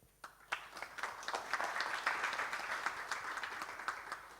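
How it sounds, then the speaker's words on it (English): A conference audience applauds a regional energy panel, a crowd of steady hand claps rising quickly and holding moderately loud from start to finish. "We have a warm last round of applause for the panel that delivered."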